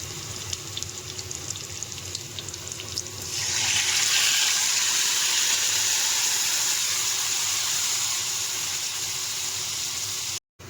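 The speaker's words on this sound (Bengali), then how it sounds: "এখন এটার মধ্যে আমি চিকেনটা ঢেলে দিব।" After a quieter start, a loud sizzling hiss bursts up and holds steady for several seconds as marinated chicken is poured into a hot pan of browned spices.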